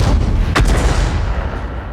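A heavy booming tank cannon shot in World of Tanks lands with a rumbling low-end roar that lingers and slowly decays. No one speaks.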